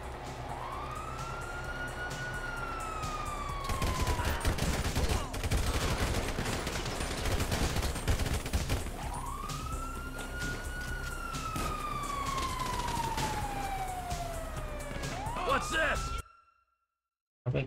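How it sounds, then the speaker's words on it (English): Police car sirens wailing in long rising and falling sweeps, loud and continuous over a crackle of gunfire-like bursts and game noise, cutting off abruptly near the end. "Ah! sirens!"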